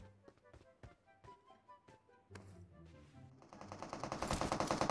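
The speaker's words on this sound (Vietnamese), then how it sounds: "Ở trên đồi có tiếng súng này." Rapid bursts of automatic gunfire crack out in PUBG Mobile from a hill, first as spaced single shots and short volleys, then building into loud, dense sustained firing toward the end.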